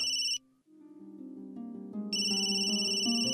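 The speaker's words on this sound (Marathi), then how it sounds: "बाबा, फोन येतोय." A phone ringtone plays a loud, continuous melodic tune of bright repeating tones in a home scene from a Marathi TV serial. No one speaks over it.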